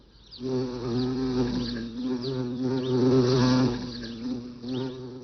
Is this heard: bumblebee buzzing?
yes